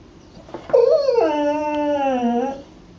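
A beagle gives one long, drawn-out whimpering cry. It is close and loud, rising into a wavering howl-like whine before it fades.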